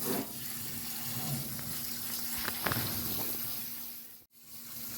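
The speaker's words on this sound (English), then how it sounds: "Rinse it under some hot water and let it cook in the soup." Hot tap water runs steadily over frozen broccoli in a kitchen sink, a continuous hiss and splash that breaks off briefly near the end.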